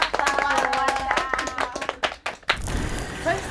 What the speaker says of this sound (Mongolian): оролцогчд маань Гоша салоонд халуун алга ташаад